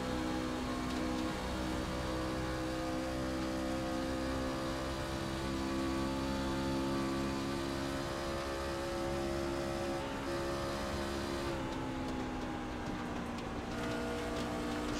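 Loud, steady in-car drone of a racing truck engine from a truck racing video game at Homestead, held at high revs with layered harmonic whine, dipping slightly near the end.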